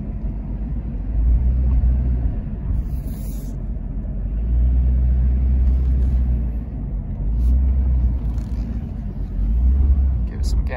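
Low, rumbling revs from the 4.0 engine of a Jeep Cherokee XJ, rising and falling in four broad swells, moderately loud and steady with no talking over it.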